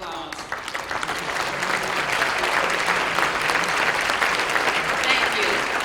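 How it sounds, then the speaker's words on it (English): A dinner audience at a NAACP Freedom Fund dinner breaks into steady, sustained applause, many hands clapping loudly and evenly throughout. "I'd like for the group to give her another hand of applause."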